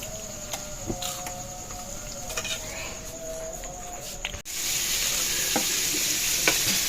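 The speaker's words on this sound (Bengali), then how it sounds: "পকোড়াগুলো তো সব ভাজা কমপ্লিট" Pakoras frying in hot oil give a steady, even sizzle and hiss that swells noticeably louder partway through, with faint clicks of stirring.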